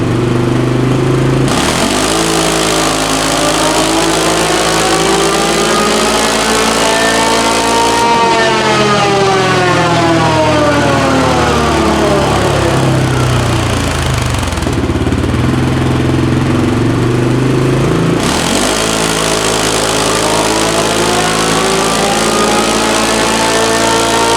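2022 CFMOTO CFORCE ATV engine on a dyno, loud and close, revving up in long sweeping pulls with pitch climbing steadily, then dropping sharply off throttle, repeated several times with no voices.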